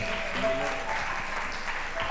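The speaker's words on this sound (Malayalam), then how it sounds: "നല്ലൊരു കയ്യടി, വലിയൊരു കയ്യടി പ്ലീസ്" A crowd at an Onam cultural program claps continuously after a song, the applause steady and fairly loud with some faint voices mixed in.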